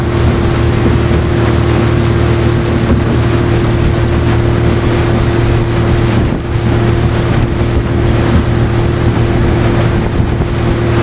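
A motorboat engine runs steadily on open water, a loud constant drone with a low hum, joined by wind buffeting and the wash of waves against the hull.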